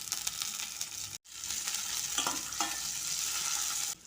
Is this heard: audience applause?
no